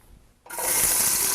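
Chopped food, roughly chopped with a little meat in it, drops into hot oil in a pot and starts a sudden loud, steady hiss of sizzling after a brief quiet moment.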